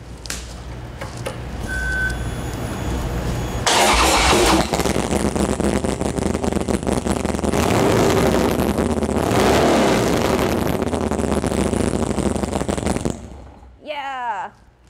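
A motorcycle engine with an aftermarket exhaust starts and runs loud and close with a deep, throaty exhaust rumble, revving continuously before cutting off, followed by a brief voice.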